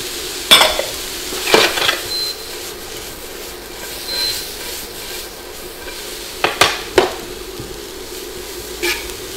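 Red cabbage with spring onions is stirred in a pan, giving a few sharp scraping and clattering strokes over a soft, steady sizzle.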